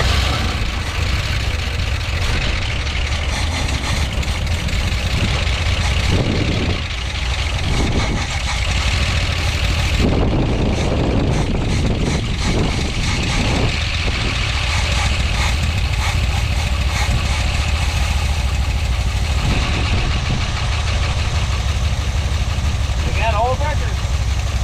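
Engine of a 1961 Chevy camper running at a steady idle, a loud continuous low rumble close by with small fluctuations, while a person talks over it.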